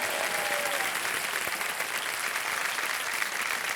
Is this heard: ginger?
no